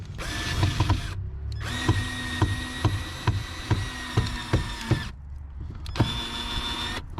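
A power drill tries to drive a screw into the ceiling of a camper van build. The motor whirs in three long bursts with a short gap between them and ratchety clicks along the way, loud and close, with no talk.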